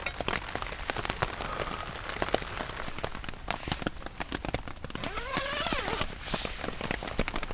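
Rain patters steadily on two ponchos joined together as a camping tent, a close, soft, even drumming with a brief faint whistle partway through and no talk.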